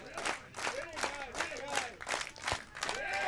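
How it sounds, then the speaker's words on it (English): Crowd at a beach volleyball match clapping in a steady rhythm with scattered applause, a series of sharp, evenly spaced claps at a moderate distance, with some faint talk mixed in. "encouraging the crowd to get the applause and the clap rhythm going"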